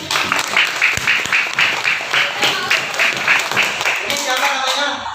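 Children in a classroom clap for a classmate, a loud, close burst of rhythmic clapping mixed with young voices that tapers off near the end.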